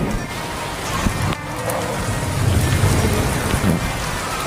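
Steady rain pours down outdoors, a dense continuous hiss of drops on surfaces with a low rumble underneath, loud and close throughout with no talking.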